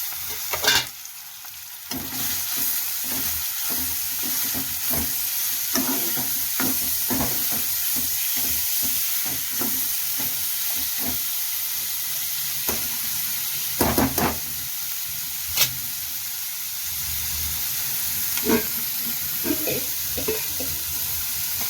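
Onions fry in a pan before tomatoes go in, giving a steady sizzle broken by frequent scrapes and clatters of stirring, close and continuous.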